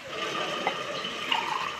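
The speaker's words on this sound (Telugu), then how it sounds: "1 గ్లాసుకు 5 గ్లాసుల వాటర్ పోయాలి" Water poured into a pot for temple-style pongal made with moong dal and rice gives a continuous close gush with faint gurgles, steady and loud from start to finish.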